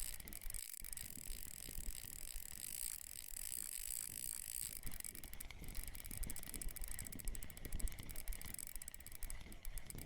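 Fishing reel friction brake ratcheting in Russian Fishing 4 while a big bream pulls, a fast continuous clicking buzz at moderate level over faint background, steady for the whole stretch with no talk.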